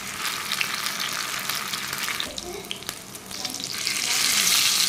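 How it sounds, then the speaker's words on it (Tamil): Loud, steady crackling and sizzling of fish frying in hot oil, close by, briefly softening before swelling louder again. "எண்ணெய் நல்லா சூடானதும் அதில் நம்ம மீனை சேர்த்து பொரித்து எடுத்துக்கலாம்."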